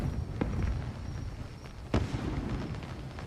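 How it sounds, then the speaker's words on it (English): Carnival fireworks in the video game Crimson Desert go off in a few separate booming bursts over a low rumbling background, moderately distant. "Fireworks, my lady."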